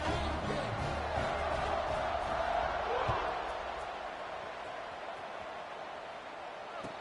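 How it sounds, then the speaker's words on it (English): A stadium crowd in the video game College Football 26: a dense, continuous roar that fills the scene, swelling slightly and then settling back, with no speech heard over it. "this crowd is feeling themselves after that last drive"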